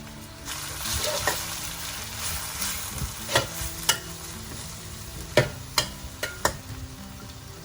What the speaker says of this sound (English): This you need to saute for a couple of minutes for the raw smell to go off.